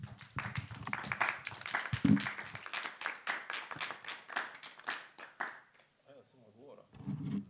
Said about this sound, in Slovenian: najprej aplavz za Gašperja.